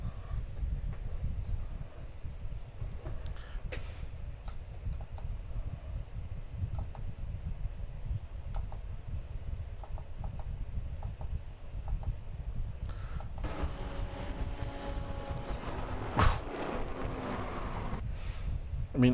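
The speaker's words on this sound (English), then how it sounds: "if you just heard that on the microphone, that was the wind going through my window" Wind blows through an open window beside a microphone, a low, constant buffeting rumble, broken near the end by a sharper, louder rush of gusting noise.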